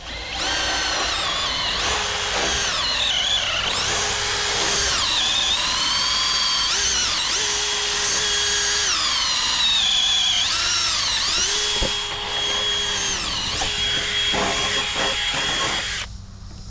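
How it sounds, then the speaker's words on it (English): A power drill drives into a wooden board for a firewood processor, whining continuously with repeated rises and dips in pitch as the load changes, loud and close throughout. "going to screw in the holes for the bolt"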